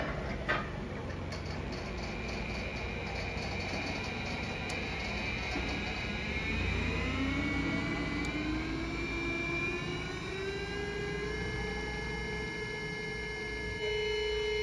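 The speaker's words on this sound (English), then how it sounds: "we will do a test run of the motor" A repaired Krones electric motor spins up on a TI-3000 run box, a steady whine rising in pitch as it gains speed and then holding a smooth continuous hum, with faint ticking in the background.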